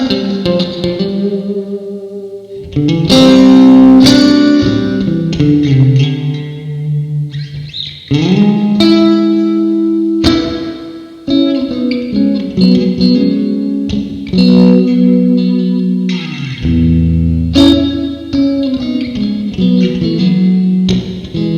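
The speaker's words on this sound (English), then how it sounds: "I think the metal is like a plate reverb." Electric guitar with distortion run through a Reverberry reverb pedal on its metal setting, a plate-like reverb, playing chords and sustained notes with shimmering, lingering tails between loud strums.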